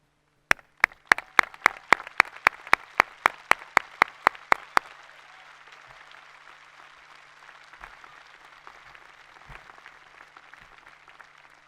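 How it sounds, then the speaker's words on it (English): At a 2019 Shawnee Mission South High School graduation ceremony, one pair of hands claps sharply and evenly close by for about five seconds, over a fainter, scattered audience applause that lingers softly afterward. "Please join me in applause as I ask our faculty to stand and be recognized."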